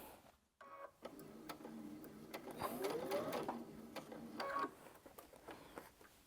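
A sewing machine stitching a puff quilt, running in sustained bursts of rapid mechanical whirring with brief pauses between, close and moderately loud.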